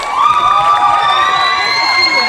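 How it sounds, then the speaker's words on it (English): A crowd at a Congolese 64th independence day celebration cheers and claps after a call for applause; a loud, sustained wash of shouts and cheers with a few high voices standing out. "Can we give them a big round of applause?"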